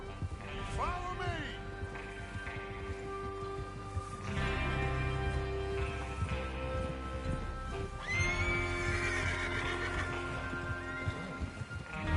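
Horses whinny and neigh several times over a busy Red Dead Redemption 2 game soundscape, with hooves clopping and some voices talking in the background.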